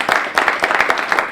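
An audience claps in a lecture hall, a dense round of applause at moderate closeness that keeps a steady patter of many hands throughout without voices.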